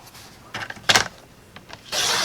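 Paper trimmer slicing through cardstock: a few short scraping swipes and rustles, then a longer steady slide of the blade near the end, close and unaccompanied by speech.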